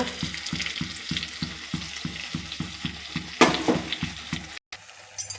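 Stuffed brinjal curry with masala paste sizzles and fries in a pan, a steady close crackle with a brief louder stir or scrape midway, then a short cut before the sizzle resumes; no talk.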